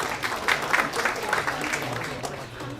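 Brief applause from a crowd at a political party policy talk-show appointment ceremony, a moderate patter of clapping that carries on evenly, with voices faintly mixed in.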